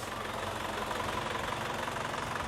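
An Isuzu Panther's engine idles in a steady, close rumble with a slight knocking tick woven through its even low drone; no talking, level unchanged throughout.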